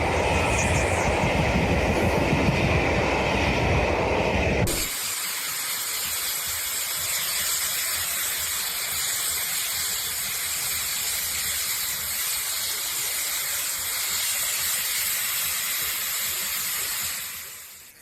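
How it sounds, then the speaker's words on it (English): British steam locomotive Tornado hauling a train unassisted: a loud rushing blast gives way abruptly to steady rail clatter and rumble, with hissing and whine carrying on until it fades at the end. "This is Britain's famous steam locomotive Tornado, hauling the entire train without any help."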